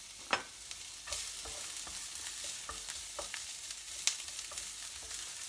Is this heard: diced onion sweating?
yes